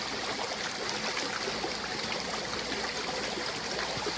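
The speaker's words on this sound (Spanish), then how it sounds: "me quito el jabón con el agua" Water pours and splashes steadily while soap is rinsed off hands outdoors, a dense continuous trickling wash close by with no voices.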